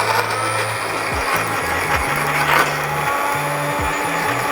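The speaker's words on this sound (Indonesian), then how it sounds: "Sekarang kita masukin semua bumbu-bumbu yang tadi udah kita siapin ke dalam blendernya." Blender grinding a paste of shallots, garlic, ginger, coriander and chili with a little oil, a steady close motor drone with rhythmic grinding pulses that shift pitch as the blades catch the thick mixture.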